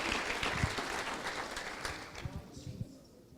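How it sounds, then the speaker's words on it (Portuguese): A church congregation claps along in worship, a fairly faint, steady patter of applause that thins and fades toward the end. "Vamos lá, gente, aplauda Jesus aí mesmo no seu lugar."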